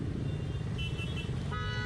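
A car horn honks in traffic in Lonavala with two separate toots, the second held longer. Both sound over a steady roadway rumble.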